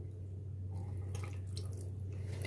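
Water poured into a pan on the stove while making a poha breakfast dish, a soft liquid trickle and patter over a steady low hum, fairly faint and continuous.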